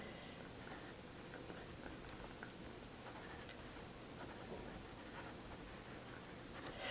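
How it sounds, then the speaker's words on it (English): A fountain pen scratches across coated, colored planner paper in soft, irregular strokes, close and quiet with faint rasping textures and small taps, no talking. "Some of my fountain pens, like it feels kind of scratchy on it."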